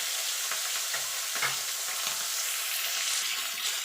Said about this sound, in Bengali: মাছগুলোকে এপিট ওপিট করে লাল লাল করে ভেজে নেবো